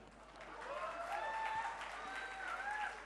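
Audience applause at the Sahitya Aaj Tak 2025 literary festival during Piyush Mishra's poetry recitation: steady, dense clapping throughout, with tonal voice sounds running over it.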